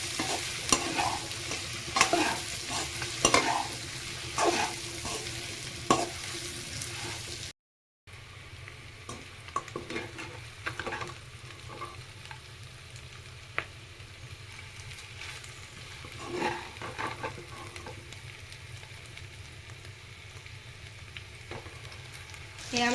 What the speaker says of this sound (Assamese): দি এনেদৰে মেজেঙা পাতখিনিৰ লগত মাংসখিনি এনেদৰে মিক্স কৰি দিওঁ।